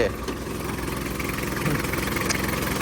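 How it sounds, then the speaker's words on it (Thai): A 2008 Mitsubishi Strada Grandis 2.8 4WD pickup engine idling, a steady close rumble with a low, even throb throughout and a voice talking faintly alongside. "นี่เดี๋ยวสตาร์ทเครื่องให้ฟังครับ"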